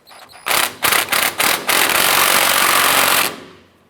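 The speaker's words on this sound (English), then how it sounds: "Let's go ahead and tighten up our horizontal motor mount bolt." A motor mount bolt on a 1994-2004 Chevrolet S10 is driven tight with a loud, close power tool: several short buzzing bursts, then one long sustained rattling run before it stops.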